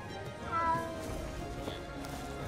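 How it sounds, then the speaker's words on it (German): A cat meows once, brief and fairly faint, in the video game Bandit Brawler, over a steady hum of game background sound. "Katze."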